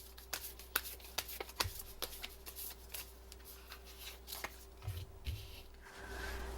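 Tarot cards being shuffled by hand: quiet, close riffling flicks and sharp snaps in an irregular rhythm, with a faint steady hum underneath and no talk.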